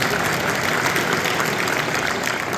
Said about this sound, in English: give Sheikh Abdullah a round of applause